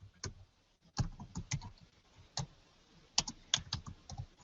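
Keys on a computer keyboard are tapped by hand in irregular, sparse clicks, close and quiet, with short pauses between keystrokes in an otherwise silent room.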